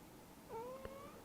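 A cat gives a single short, faint meow, a brief tonal cry against quiet background with a small click partway through, and no speech.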